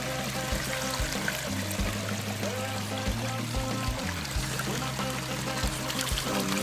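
Water pours and rushes steadily through a homemade Angus Mackirk highbanker sluice for gold prospecting, with a churning, boiling action breaking up dirt; the flow is continuous and fairly loud with no talking.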